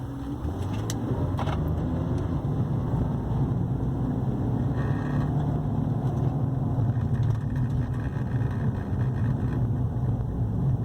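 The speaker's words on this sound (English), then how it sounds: "Let's see what happens when we punch the gas real quick." A BMW engine droning steadily under hard acceleration from inside the car, with a continuous loud rumble and constant road and cabin noise for the whole stretch.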